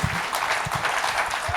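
Comedy-show audience applauding in a short, dense burst of many hands clapping together, steady and fairly loud throughout.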